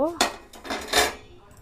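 A metal pot of boiled potatoes lifted off a stove, giving a few close, bright clanks and scrapes of metal against metal, sharp hits spaced over a moment with no talking.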